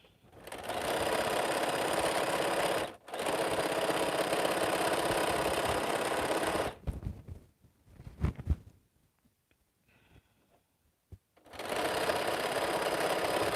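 A quilting sewing machine runs in long, loud, steady bursts, close by. It stops briefly twice, with quiet handling sounds in a longer pause before it starts again.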